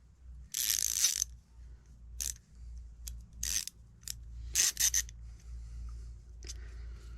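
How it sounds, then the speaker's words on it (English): A tiny mini ratchet from a pocket tool kit, loaded with small bits, gives several close bursts of sharp rapid clicking separated by short quiet gaps, crisp and mechanical with no voices. "Got a tiny little mini ratchet that fits these little tiny bits."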